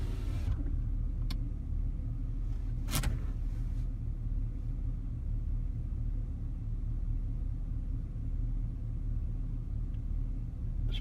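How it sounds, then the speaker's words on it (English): A Ford Taurus with the Vulcan 3.0 V6 idling after repair of an EGR tube o-ring and intake gasket, a steady low rumble close by with a couple of faint clicks over the top. "it certainly sounds like the engine's running better."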